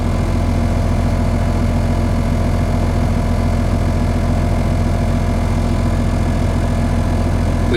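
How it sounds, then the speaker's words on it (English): Steady engine idle with a constant low rumble and an even mechanical drone, running unchanged and fairly loud the whole time with no voices. "Return engine to idle"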